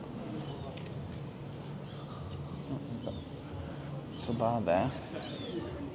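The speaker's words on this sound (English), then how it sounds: "Oh, look, seagulls are happy at all." Gull cries ring out several times in Liverpool, with one louder burst of calls near the end, over outdoor background noise and a brief spoken remark.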